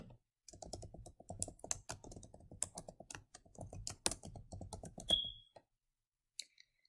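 Someone types an assignment title on a computer keyboard, a quick run of close, crisp key clicks in uneven bursts that stops abruptly, followed by a short bright tone and a couple of faint final taps.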